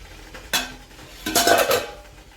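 After the lid comes off a pan, a knife is poked into steamed millet and wheat dough, making two short bursts of metallic clatter and scraping against the cookware.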